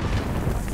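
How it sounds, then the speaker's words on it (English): A grenade detonates in Call of Duty: Modern Warfare, a short, loud, low rumbling blast heard close up with no talking. "Wait, grenade."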